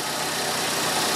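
A Fiat Uno 1.4 EVO engine idles steadily with its cooling system opened for flushing, a low continuous rumble heard close up with no pauses.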